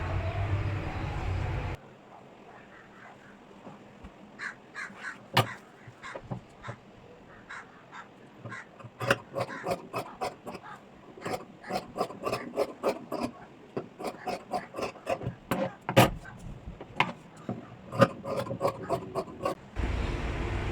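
Scissors snip away the leftover seam allowance on a stitched blouse. The short, crisp cuts come close together in irregular bursts, with quiet handling in between and no talking.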